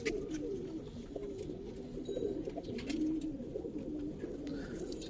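Coloured pigeons on a pigeon farm in Bangladesh coo softly and repeatedly at close range, a low rolling murmur over faint background noise.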